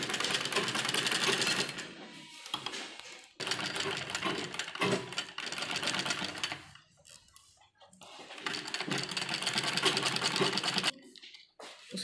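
A sewing machine stitches a net lehenga blouse, running in long steady whirring bursts with brief stops between them; someone talks faintly in the pauses.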